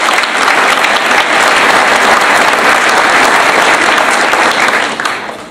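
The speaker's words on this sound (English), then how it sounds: "I'd like to give him a round of applause again on my behalf" A banquet hall audience at the 2009 CCSU awards gives a loud, dense round of applause that runs unbroken for several seconds before tapering off.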